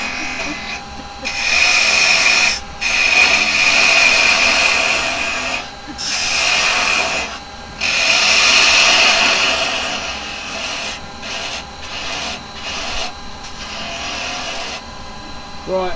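Woodturning on a lathe with carbide chisels, a steady rasping, scraping cut against spinning wood that runs in long loud stretches broken by short pauses, with people talking over and between the cuts.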